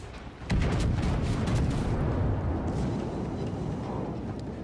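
A heavy battleship broadside in a naval combat game, one deep booming salvo erupting after a short pause and rolling on as a loud sustained rumble.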